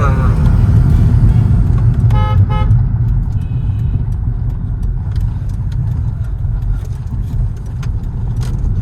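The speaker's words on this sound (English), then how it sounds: "You can hear the air gushing in." Stage 2 tuned Hyundai Verna Fluidic diesel with a downpipe, driving with a steady rushing intake and a low engine drone, and a short horn-like tone near the start.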